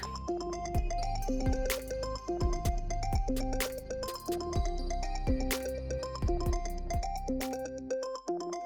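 A phone rings with an incoming call, playing a loud, repeating electronic ringtone melody in a steady looping pattern until it cuts off near the end.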